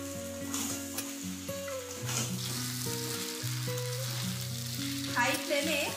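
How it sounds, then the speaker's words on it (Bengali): Veg noodles stir-fried street-food style on high flame, tossed with red chilli sauce, dark soy sauce and vinegar using a spatula and ladle: a steady sizzle with soft scraping runs throughout beneath background music. "আমি একটা খুন্তি আর একটা হাতার সাহায্যে চাউমিনটা মিশিয়ে নিচ্ছি"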